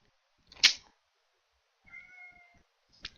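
A cat meows a few times nearby in an otherwise quiet room: a sharp short call, a longer drawn-out meow, then another brief one.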